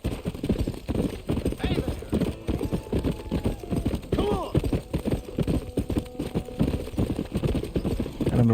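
A horse gallops in Red Dead Redemption Remastered with a fast, steady rhythm of hoofbeats. Someone talks over the hoofbeats almost the whole time.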